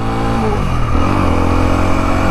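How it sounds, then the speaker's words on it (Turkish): A Honda CL 250 Scrambler motorcycle engine revs up close and steady, a continuous loud mid-pitched engine note that rises as the throttle opens and holds through the whole stretch, with no talking. "Gaz kolu hissiyatı çok iyi arkadaşlar. Çok yumuşak. Yani dokunduğunuz anda motor zaten torkundan dolayı ivmeleniyor. Şöyle biraz basalım."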